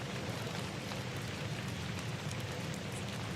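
Steady, dense hiss of rain falling in the survival video game Novus Inceptio, constant and even throughout with no distinct drops or thunder, no voices.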